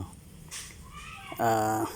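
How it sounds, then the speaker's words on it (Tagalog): Abandoned kittens cry with high, thin meows, one clear plaintive mew rising near the end over a soft outdoor background. "mayroong nag-iiyak na mga kuting"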